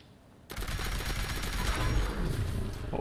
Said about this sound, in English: the fourth weapon is railway rifle with automatic piston receiver